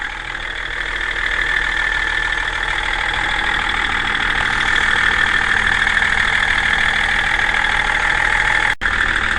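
Land Rover TD6 diesel engine idling in the engine bay after a turbo fit, a steady, loud, close rumble with a whistling turbo whine and no talk.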